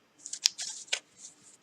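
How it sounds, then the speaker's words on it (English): A tarot card deck being shuffled by hand, giving a quick run of crisp, papery riffles and snaps over about a second and a half, close and fairly quiet, with no talking. "My deck is pre-shuffled, but I'll just shuffle a bit"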